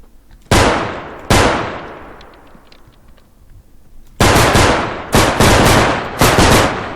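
Gunfire in a realistic bodycam-style shooter game: loud sharp shots with long ringing echo tails, two separated single shots, then a cluster of rapid bursts near the end.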